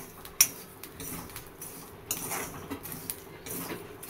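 Chickpeas being stirred in hot salt in a pan to roast and puff, giving a steady scraping rustle with a sharp metallic clink near the start and scattered clatters, no talking.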